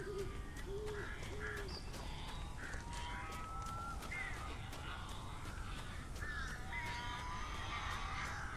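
Crows caw repeatedly in the game Alan Wake, with several harsh calls scattered over a steady low ambient rumble and faint clicks at a moderate distance.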